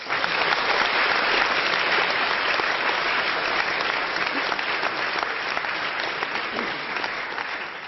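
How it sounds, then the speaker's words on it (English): An audience applauds steadily, a dense wash of clapping that holds strong throughout and eases slightly toward the end. "Please give him a warm round of applause."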